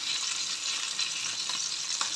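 Salmon frying in oil over low heat, with garlic added to the pan, gives a steady, even sizzle throughout, close and continuous with no talking.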